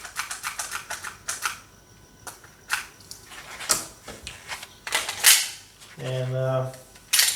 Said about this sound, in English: I'm gonna get a couple shots through that Chrono, whack a few more gels in there.